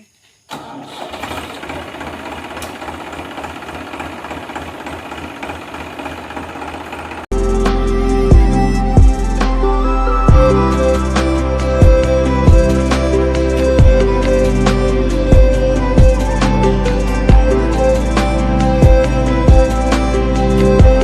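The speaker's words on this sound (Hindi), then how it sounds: "ट्रैक्टर अंदर ले जाऊँ मैं।" Diesel tractor engine on a Chhattisgarh village farm, faint at first, then close and loud, running with a steady rough knocking rhythm as it drives into the field to plough.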